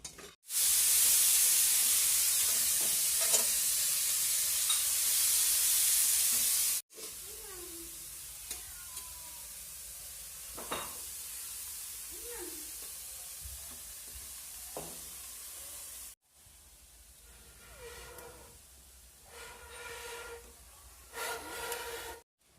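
Prawns frying in hot oil give a loud, steady sizzle that later drops to a quieter crackle and hiss, with stirring clinks and a few cuts in between.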